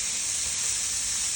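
Bacon sizzles in a pan with celery and capsicum, giving a steady, bright frying hiss that holds evenly throughout with no voices.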